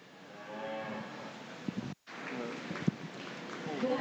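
A dairy cow lows in a Holstein show ring at a state fair youth cattle show. The deep, drawn-out moo sounds near, and hoof thuds, a crowd murmur and an announcer's voice run beneath it.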